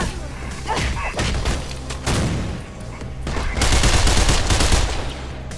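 Rifle gunfire in the video game Mirror's Edge, fired in rapid, dense bursts that crackle loudly throughout, with heavy thuds and booms mixed in.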